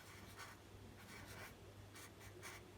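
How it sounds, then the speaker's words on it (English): Pen writing a playing card name on paper, short scratchy strokes in bursts, close and very quiet, with no talking. "So I'm going to write this down, the 7"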